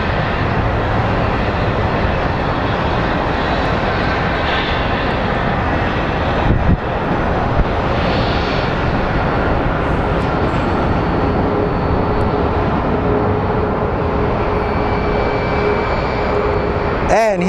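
A Sun Country Airlines airliner at Phoenix Sky Harbor Airport produces a continuous loud engine rumble and whine with a couple of sharp knocks partway through. A person talks over it.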